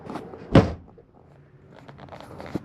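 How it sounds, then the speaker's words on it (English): A 2025 Jayflight SLX 170BH travel trailer door swings shut with a single solid thunk early on, followed by faint rustling, small knocks and a light tap near the end. "we'll close the door."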